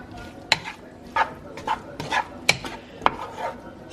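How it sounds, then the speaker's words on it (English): Tomato and onion being stirred in a pan, a run of soft scraping and clinking strokes about every half second, close but fairly quiet over a low background hiss. "And then you're just gonna stir it in."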